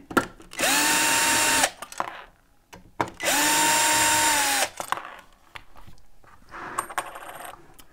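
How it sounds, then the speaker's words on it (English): A security Torx driver is run as a small power tool to remove the panel over the lock on a Global Safe hotel safe, with two loud whirring bursts of a few seconds each followed by faint clicks and handling noise. "We're going to take that off using a security Torx driver."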